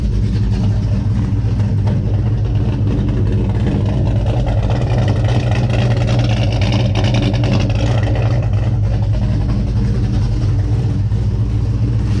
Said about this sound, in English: Let me get the exhaust note real quick for you.